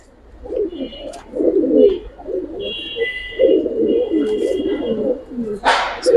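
Close, continuous cooing from giribaz pigeons in an Old Dhaka loft, overlapping throaty rolls from several birds with thin chirps above and a sharp brief rustle near the end.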